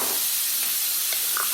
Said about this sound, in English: I'm frying the jalapenos as well as the bacon